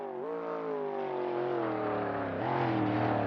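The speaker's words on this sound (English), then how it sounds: "listen to that roaring V8," V8 engine of a Cobra roaring down a racetrack straight in third gear, a loud, steady, deep drone that climbs and shifts pitch as it revs, close and alone.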